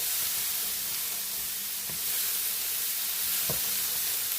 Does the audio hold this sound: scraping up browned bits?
yes